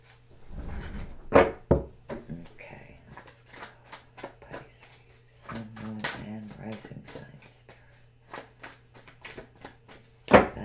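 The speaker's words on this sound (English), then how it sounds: "dropping cards for you guys" Tarot cards being shuffled and dropped onto a surface produce a run of quick papery flicks and soft slaps in uneven bursts, with a few sharper taps, while a soft voice hums or murmurs in places.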